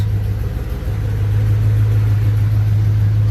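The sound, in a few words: Ram truck engine running with an exhaust leak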